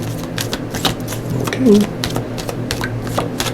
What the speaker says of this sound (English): I'll take 1 from the top once I finish shuffling.